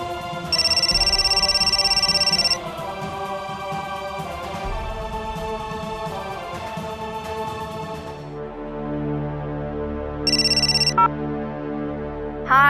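A telephone ringtone sounds in repeated loud electronic bursts over a musical background, as a call is placed to someone, with a pause before a shorter final burst.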